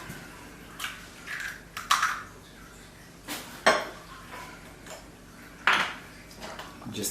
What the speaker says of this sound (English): we're going to mix the egg now with a little bit of olive oil.